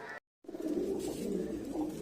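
Low, steady cooing of Mardin tumbler pigeons close by after a brief moment of silence, a soft throaty murmur running continuously to the end.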